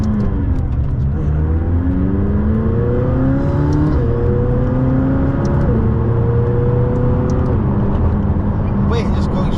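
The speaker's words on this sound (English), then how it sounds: "Wait, it just goes through the gears." A McLaren 600LT engine roars close and loud, its pitch climbing repeatedly then dropping as it shifts up through several gears in quick succession.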